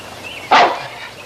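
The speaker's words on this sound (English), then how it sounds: "It was a dog." A single sharp dog bark rings out close by, one brief loud burst against a quiet background with no other activity.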